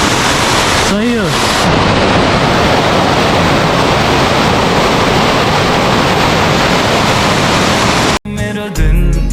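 A monsoon-swollen waterfall at Lumre roars in a loud, unbroken wash of rushing water close by. A brief voice sounds early, and a short different sound cuts in at the very end.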